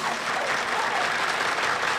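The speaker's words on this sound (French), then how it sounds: "j'ai hâte de vous entendre applaudir" A large audience claps steadily and densely, a continuous wash of applause with no pauses or voices standing out.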